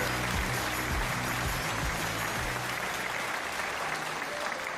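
Sustained applause from a studio audience at a Chinese lecture talk show, a dense steady wash of clapping that holds evenly throughout, loud and close with no voices over it.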